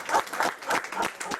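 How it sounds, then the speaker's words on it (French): Scattered applause from a small group, uneven bursts of clapping with a few brief pauses, fairly close. "Moi je te dis, on applaudit."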